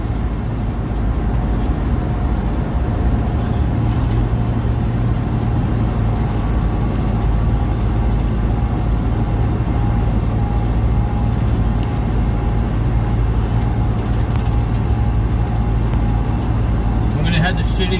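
A car cruising at 65 mph on a bumpy road gives a steady, loud low rumble of engine and tires, with a voice talking over it throughout.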